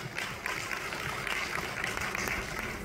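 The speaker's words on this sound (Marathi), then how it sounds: "खरंच त्यांच्यासाठी टाळ्या वाजवा" Audience applause at a Marathi panel discussion on women's safety and empowerment, a steady dense patter of clapping lasting the whole stretch with no talk over it.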